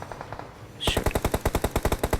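Automatic gunfire in a battle royale video game rattles out as a rapid, evenly spaced burst of about fifteen loud shots, beginning after a quieter opening moment.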